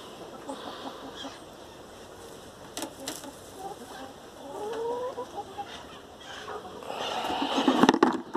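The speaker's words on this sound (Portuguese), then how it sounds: "tem galinha no ninho." Hens sit in their nests in a dark coop and give scattered soft clucks and low murmurs that grow louder and busier toward the end, over a faint ambient hiss.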